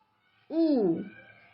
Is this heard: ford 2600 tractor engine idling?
no